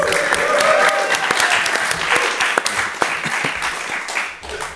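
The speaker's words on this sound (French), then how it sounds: "Vous pouvez applaudir." A live audience at a French podcast recording gives loud, continuous applause, a thick wash of many hands clapping that holds steady throughout and eases slightly at the close.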